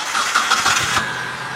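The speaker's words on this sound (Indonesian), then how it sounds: "Dan coba kita nyalakan mesinnya," A 2016 Mitsubishi SS pickup engine starting up, a short loud cranking burst that catches and settles into an idle, heard alone without speech.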